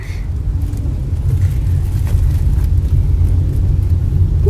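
Steady low engine and road rumble heard from inside a moving car on a drive in Japan, continuous and fairly loud with no talking.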